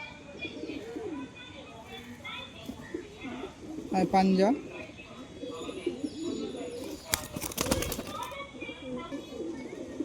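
Several breeding-pair pigeons in a loft coo in low rolling phrases. Someone talks over them, and there are brief clattering bursts and a short rustle of wings.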